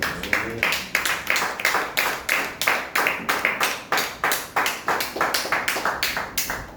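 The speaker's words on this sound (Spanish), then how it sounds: "Den aplausos al Señor de Dios." A church congregation claps in steady unison, about three claps a second, loud and close, continuing without a break and with no voices over it.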